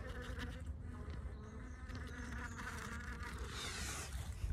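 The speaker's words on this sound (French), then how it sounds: "on est vraiment sur de l'abeille profilée, abeille noire hein, dessus" Black honey bees buzz in a dense, continuous drone during a spring hive inspection, close and steady with no voices over it.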